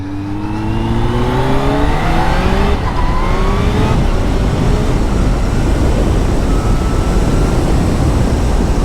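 A supercharged 2022 Kawasaki ZH2 SE motorcycle is ridden fast, its engine note rising through several gears in quick succession, then giving way to a loud steady roar of wind and engine that fills the rest.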